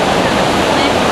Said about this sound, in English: You don't often see a waterfall of this size or shape really, but it's quite an interesting one